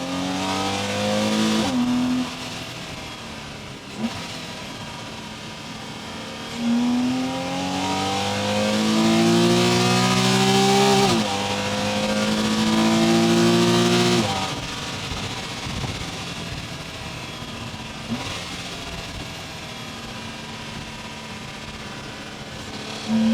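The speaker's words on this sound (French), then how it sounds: "on a une résonance qu'on n'avait pas du tout avec le plénum d'origine qui est en plastique" A Porsche Cayman engine fitted with an upgraded plenum replacing the stock plastic one revs repeatedly, rising and falling in pitch with throaty resonance, loud and close, with short pauses between bursts of acceleration.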